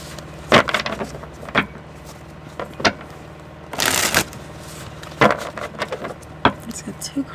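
Tarot cards being shuffled in bursts of papery riffles and taps, with a longer dense flutter midway, close and moderately loud, with faint background hum.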